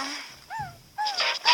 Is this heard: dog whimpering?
yes